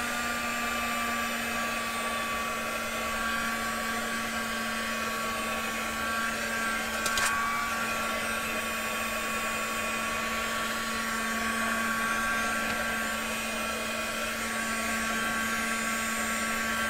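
A hand-held dryer drying ink on a handmade envelope runs continuously at a steady, loud whir with a constant hum throughout, close by and with no talk.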